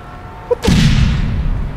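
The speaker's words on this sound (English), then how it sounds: "Bouncing grenades." A bouncing grenade from the OPGL-CD launcher in the APB Reloaded game goes off as a single loud, booming blast after a brief faint pop, its rumble lingering for about a second.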